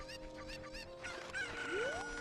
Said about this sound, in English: there's a chicken over here, too